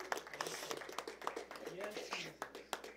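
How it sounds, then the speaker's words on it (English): Church congregation clapping in rhythmic, repeated beats, fairly faint and mixed with voices talking and calling out over it. "You can clap. You can clap."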